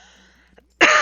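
A single near throat clearing bursts out loud and brief at the very end, after a stretch of quiet low background with a few faint clicks, during a Zelda: Majora's Mask game commentary.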